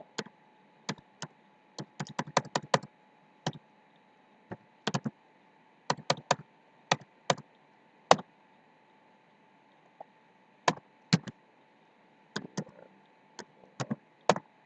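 CSS code being typed on a computer keyboard: sharp, close clicking keystrokes in quick bursts and short runs separated by pauses, with no voices.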